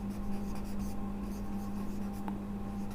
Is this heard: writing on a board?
yes